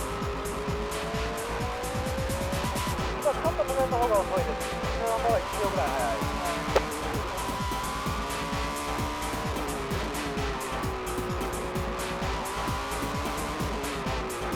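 Honda NSX race car driven hard on track, engine revving high with rising and falling pitch through gear changes and tire squeal, heard close under a commentator's voice.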